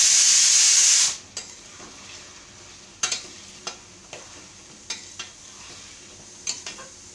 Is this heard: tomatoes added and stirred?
yes